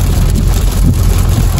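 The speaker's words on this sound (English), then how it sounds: "This is the raindrops" Raindrops fall in a dense, loud, continuous patter with a rough, broadband wash and no pauses across the short stretch.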